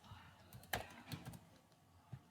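Scattered computer keyboard keystrokes, a handful of separate taps with one sharper click standing out, fairly quiet with a faint background and no clear talk.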